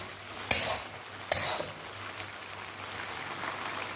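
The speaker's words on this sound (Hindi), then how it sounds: "और अब फ्राइड चिकन इसमें शामिल करके इसे अच्छी तरह से मिक्स कर लेंगे।" A utensil scrapes and clinks in a pan as fried chicken is stirred into Mongolian sauce, two distinct sharp strikes followed by quieter stirring with a faint sizzle.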